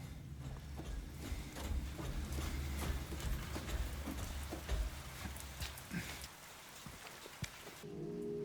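Steady rain in a dark room in the horror game Silent Hill 2, a soft continuous patter with scattered drip taps, faint and even, cutting off abruptly near the end.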